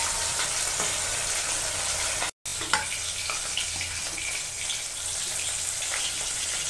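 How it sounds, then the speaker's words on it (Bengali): Rohu fish sizzling in hot oil in a wok, a dense, even crackle at close range, broken only by a momentary silent gap before resuming just as strongly. "মাছগুলো ভালো করে ভেজে নিতে একটু সময়ও লাগবে।"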